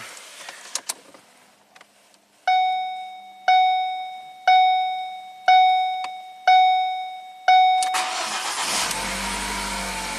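A 2012 Ford Focus starter whirs in five short, evenly spaced bursts before the engine catches and settles into a steady idle.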